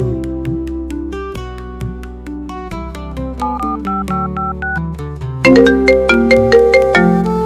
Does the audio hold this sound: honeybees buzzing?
no